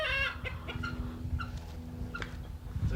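An Orpington chicken clucks close by in a run of short, irregular clucks and squawks over a low steady hum, with no talking.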